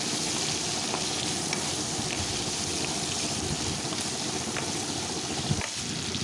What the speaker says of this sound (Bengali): চিংড়ি মাছগুলো সব ছেড়ে দিলাম নাড়াচাড়া করে চিংড়ি মাছগুলো ভেজে নেবো